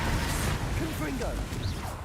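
Confringo fire spell cast in the Hogwarts Legacy video game: a brief fiery blast with whooshing and crashing impacts over a dense, busy game soundscape.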